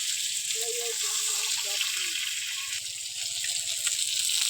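Egg and eggplant frying in a pan for a Bengali begun dim dish, a steady close sizzle and hiss that carries on without a break, with a voice speaking faintly underneath.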